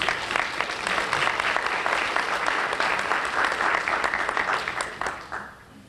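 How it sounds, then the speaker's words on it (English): An audience gives a round of applause for program sponsors at an education workshop, a full dense ovation that holds steady for several seconds and then tapers off at the end. "please join me in giving them a round of applause."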